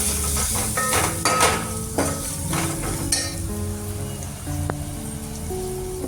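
Grated coconut and red chili powder get stirred in a hot pan for Rajasthani dal baati, with a constant sizzle and repeated scraping and clinking of a spoon against the metal; no one talks.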